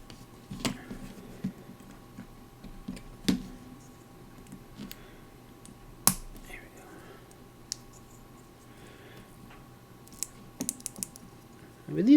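Clicky buttons on Atari 5200 controllers are pressed in sparse, crisp individual clicks, close and fairly quiet, with short pauses between presses and a few quicker clicks near the end.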